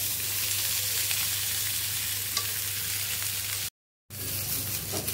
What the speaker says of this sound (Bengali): শিমগুলোকে আমি ভালো করে আগে ভেজে নেবো